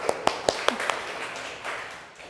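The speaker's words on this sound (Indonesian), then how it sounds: "Tepuk tangan untuk mereka." A classroom of students claps for a group that has just presented: a handful of sharp, separate claps come first, then a softer, spread-out patter of applause that fades toward the end.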